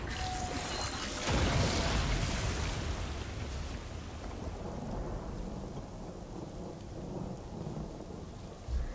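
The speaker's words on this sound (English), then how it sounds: "It does cast a rainstorm." A rainstorm with rolling thunder cast in a shooter video game, the steady hiss of heavy rain filling the scene while a loud thunderclap booms near the start and rumbles on underneath.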